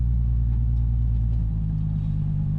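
A Nissan 350Z engine idles close by with a steady, deep rumble and a slight change in tone partway through.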